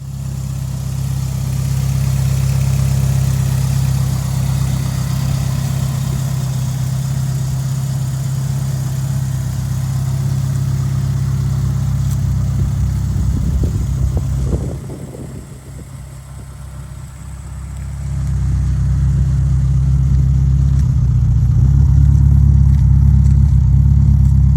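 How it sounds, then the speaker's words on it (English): Saab 9-5 Aero engine idling outdoors, a steady deep rumble running slightly rough and uneven, briefly dropping in level midway before returning louder, with no talk. "let the car idle outside, and this is what it looked like and what it sounded like when I did the idling"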